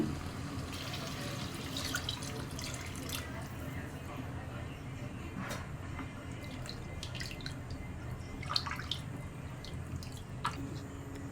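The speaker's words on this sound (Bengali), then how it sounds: "এখন পানি দিয়ে দেবো" Water is poured into a cooking pot of beef and rice for biryani, steady running and splashing with occasional drips, a continuous watery wash lasting throughout at moderate level.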